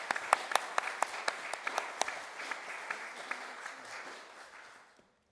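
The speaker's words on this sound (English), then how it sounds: "give ourselves all a round of applause." Audience at a Cornwall and Isles of Scilly Local Nature Partnership conference applauding together, a steady patter of many hands with a few sharp near claps standing out, fading away over about five seconds.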